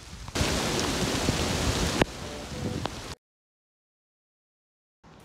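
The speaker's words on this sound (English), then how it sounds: "How come every time I try to film, it starts to rain?" Rain pours down in a forest as the wind picks up, a loud, dense hiss of drops on leaves and ground that cuts off abruptly after about three seconds.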